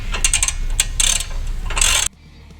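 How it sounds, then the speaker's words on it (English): A ratchet clicks in quick repeated bursts as 15mm bolts are threaded into welded nuts while mounting a front bumper on a Polaris Pro XP RZR, close and loud, then stopping abruptly near the end. "we can install our bottom 2 bolts. There's a welded nut on the back side of this, so we can just go ahead and thread those in."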